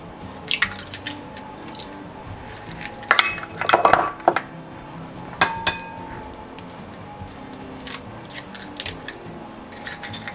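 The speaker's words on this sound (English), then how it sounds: "And now we're going to add the eggs." Two eggs go into lemon raspberry loaf cake batter in a mixing bowl: a few sharp cracks and clinks against the bowl around the middle, wet squishy drips, and light utensil taps, close and fairly quiet with no talk.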